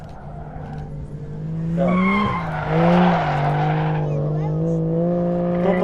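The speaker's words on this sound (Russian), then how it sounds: "Тут у нас идет на ваших глазах прогрев резины на передней оси" A drift car warms its front tyres with a long engine roar and rising squeal of spinning rubber, loud and close, with a commentator talking over it.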